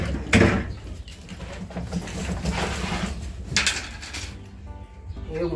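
Ceramic plates clatter as they are set into a dish rack in a new home's kitchen, a few scattered clinks and knocks at moderate distance amid room noise and background talk.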